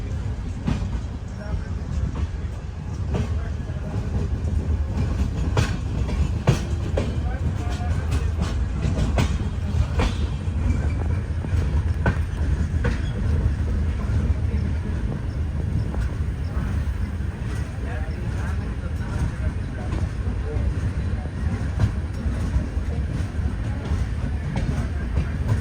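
Vasco–Hazrat Nizamuddin Goa Express rolling on after leaving Castle Rock station toward Londa, a steady close rumble of coaches with faint clickety-clack of wheels over rail joints throughout.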